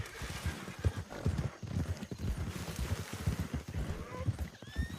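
Steady clip-clop of horse hooves from a Nakota horse in a Wild West roleplay video game, a continuous rhythmic trot that is fairly close and moderately loud, with a low murmur of talk underneath.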